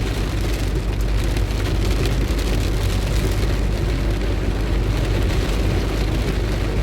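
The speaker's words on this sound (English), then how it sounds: "Rain like crazy." Heavy rain pours steadily and loudly on a drive through St. Elizabeth, Jamaica, a dense continuous hiss with a low rumble beneath, no voices.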